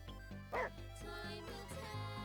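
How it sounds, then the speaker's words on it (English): A dog barks in a detective video game, a series of short, bouncy barks and yips repeating in an even rhythm, close and moderately loud, with one sharper yelp early on. "His barking scares the enemy."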